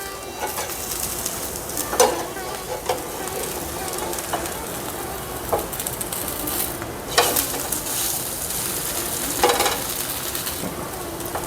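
Wheat dosa frying in a generous amount of oil on a pan gives a steady crackling sizzle, with a few sharper scrapes or pops standing out now and then.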